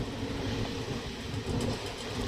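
Steady low rumble and rattle of a fast-moving train from Khordha to Berhampur heard from inside, continuous rolling noise with faint rhythmic clatter, no voices.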